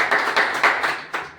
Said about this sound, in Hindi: श्री अर्जुन धर्म को एक बार जोरदार ताली से स्वागत किया